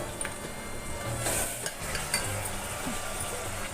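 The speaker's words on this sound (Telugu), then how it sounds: "దీంట్లో మటన్ ముక్కలు వేసుకుందాము ఆయిల్లో." Mutton pieces going into hot oil and being stirred in a pan, with a continuous moderate sizzle and a few metallic utensil scrapes, no talking.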